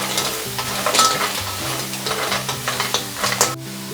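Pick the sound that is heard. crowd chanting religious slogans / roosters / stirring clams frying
stirring clams frying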